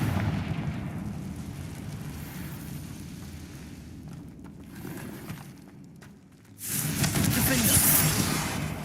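A Confringo blasting spell from the video game Hogwarts Legacy erupts in a sudden loud explosive burst that follows a quieter stretch of game ambience and combat noise, then rumbles on with a bright crackling tail.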